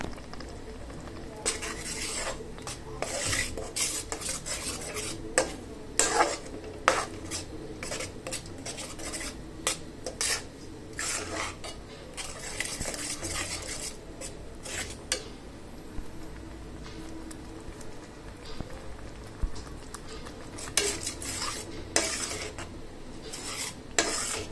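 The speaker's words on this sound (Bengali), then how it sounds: "এবার আমি ভেজে রাখা চিংড়ি মাছগুলো দিয়ে দিচ্ছি। এবার একসাথে ভালোভাবে মশলাগুলো কষে যাক।" Fried prawns are stirred into a spice masala in a pan, a spoon scraping and clanking against the metal in repeated strokes over a soft sizzle, continuing steadily for a long stretch.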